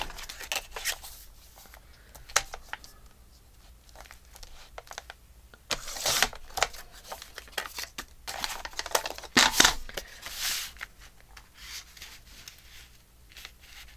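Scissors cutting paper for a handmade journal, with close, crisp snipping and rustling in short bursts, loudest in the middle stretch.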